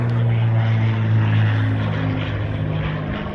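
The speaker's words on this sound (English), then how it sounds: "There is the airplane." A small propeller airplane, about the size of a Cessna 152, drones loudly overhead with a steady, even engine hum that fades slightly toward the end.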